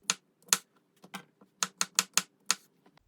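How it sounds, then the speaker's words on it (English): A knife slices through rinsed mushrooms on a cutting board, producing a quick series of about a dozen sharp, crisp taps in an uneven rhythm, close and clear, with no talking. "I've rinsed my mushrooms and now I need to slice them"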